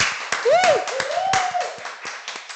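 Talk-show studio audience clapping to welcome a guest, with sparse sharp claps and a voice calling out in a rising and falling whoop over them.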